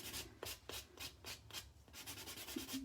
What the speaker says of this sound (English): And then the same thing with my buffer, like I do with the drill. I just kind of angle it in and clean up that cuticle one more time.